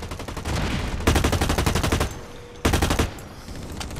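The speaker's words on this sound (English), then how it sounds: "they're shooting from there" Rapid bursts of automatic gunfire from enemies in a shooter video game, two loud volleys of dense repeated shots with continuous battle noise between them, no talk.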